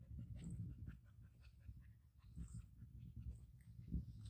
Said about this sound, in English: the thing that sounds like a train coming behind me is a dog